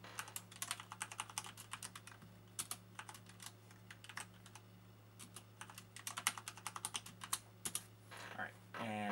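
Someone types a password on a computer keyboard while setting up a home-lab server, producing bursts of quick, crisp key clicks with short pauses between runs, over a low steady hum of nearby equipment.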